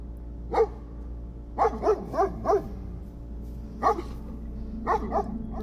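A dog barks repeatedly, in short bursts and clusters of two or three sharp barks separated by pauses, fairly close and clear against quiet background.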